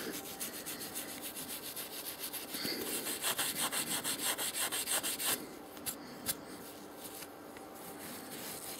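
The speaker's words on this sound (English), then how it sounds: "Just needs a bit of a rub in places with some steel wool just to clean it a little bit." Steel wool scrubs against metal to clean off grime, giving a steady run of close, rhythmic rasping strokes that grow louder in the middle and then ease into softer rubbing.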